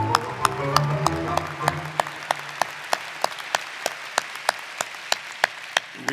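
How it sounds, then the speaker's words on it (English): Audience applause at a Stockton University baccalaureate ceremony, honoring retiring colleagues: steady crowd clapping that starts dense and full, then thins to scattered, sharp individual claps by the end, with no talking. "Can we please give a round of applause to those colleagues?"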